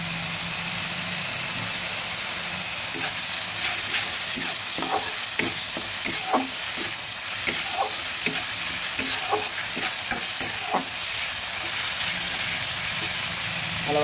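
Onion, ginger paste and garlic fry in a pan for a Katla fish curry, with a steady close sizzle broken by repeated stirring scrapes and clinks through the middle, with no voices.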